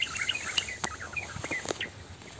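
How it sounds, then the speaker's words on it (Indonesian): Birds call and chirp in short, scattered bursts on a mountain hiking trail on Gunung Kemuncup in the Penanggungan range, fairly faint against steady background hiss, with no talking. "Masih banyak burung-burung."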